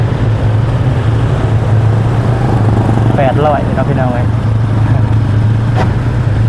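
Farm tractor engine running at a steady, loud low throb close by, while someone talks over it.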